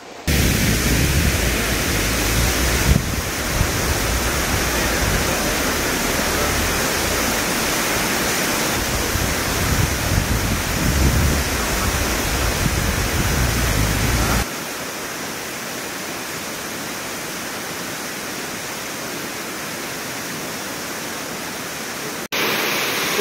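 Steady waterfall roar heard close by, a dense unbroken hiss of falling water that drops to a quieter, thinner wash partway through, with no voices.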